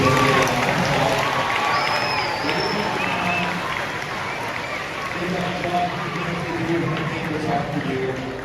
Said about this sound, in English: One more round of applause for these people